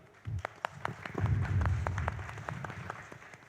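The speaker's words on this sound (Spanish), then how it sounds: "Con un fuerte aplauso, el doctor Santiago Giraldi." A conference audience claps to welcome a doctor to the stage at a national pain forum, a modest spatter of hands that swells briefly then thins out, with some low rumbling, no voices.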